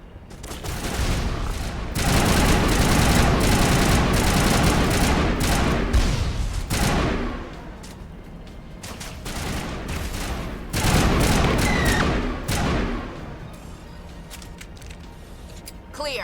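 Shotgun blasts and rapid gunfire from a Mass Effect firefight come in loud, dense bursts with short lulls between volleys, sharp close impacts over a continuous battle din.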